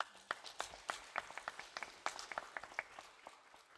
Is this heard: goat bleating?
no